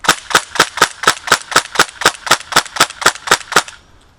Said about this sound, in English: I'm going to fire off 15 rounds.